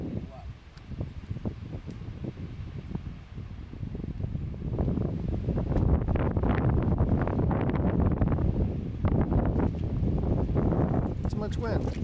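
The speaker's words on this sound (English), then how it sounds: "Too much wind." Wind blowing across an open outdoor spot, a steady rushing and buffeting on the microphone that grows stronger midway, with people talking over it.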